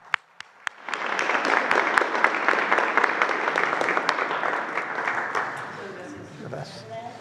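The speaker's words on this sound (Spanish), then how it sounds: "Un aplauso" A few scattered claps open, then an audience at a presidential morning press conference bursts into sustained applause that carries on for several seconds before thinning out, with speech mixed in.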